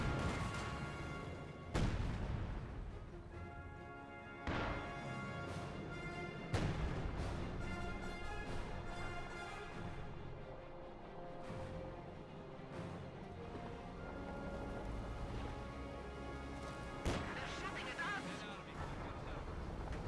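Artillery barrage in Company of Heroes 2, with heavy booms landing at irregular intervals under a steady mix of battle noise while a commentator talks throughout.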